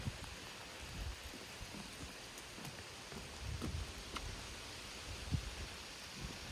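Light rain falls in a forest in Algonquin Park, Canada, a soft steady patter on leaves and surfaces with scattered nearby drips, quiet and continuous with no voices.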